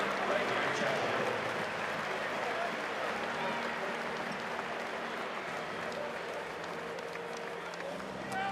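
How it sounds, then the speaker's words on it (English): Broad crowd applause and cheering fills a college basketball arena during a break in a Central Arkansas vs. North Carolina men's game in Chapel Hill, loud and continuous with arena echo and a faint voice underneath. "a warm nice round of applause for SEC Family House"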